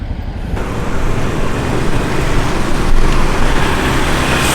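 Steady roar of road traffic, vehicles passing close by in a continuous wash of engine and tyre noise, with no voices.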